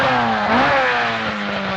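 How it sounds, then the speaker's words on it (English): A Circuit of Ireland Rally car roars past nearby with a loud, strained engine note that swells and shifts pitch briefly as it climbs the hill. "up over this hill very shortly now will come the cars in the Circuit of Ireland Rally"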